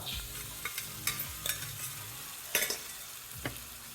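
Moong beans stirred into sautéed masala in a pan, with a steady sizzle under repeated scraping clicks of a spoon, several sharp strokes in an uneven rhythm, close and alone without talk.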